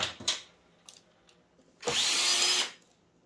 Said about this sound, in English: So again, quick work, power tools.